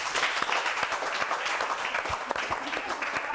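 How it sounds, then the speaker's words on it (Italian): An audience applauds on an Italian football TV show, with steady, close crowd clapping that is dense and continuous throughout, and some faint voices mixed in. "Applauso per tutti"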